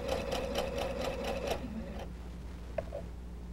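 Sewing machine stitching a quilt seam for a double wedding ring quilt, a close, steady rapid run of mechanical stitches that stops after about a second and a half, followed by a couple of small clicks.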